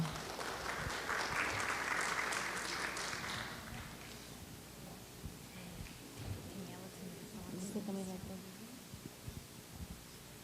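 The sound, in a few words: audience applause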